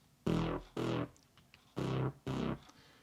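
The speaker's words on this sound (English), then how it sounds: "This is, they call it the big saw bass." Big saw bass preset from Logic Pro plays four punchy, buzzy synth notes in a short rhythmic figure, each sharp-edged and decaying, heard clearly alone.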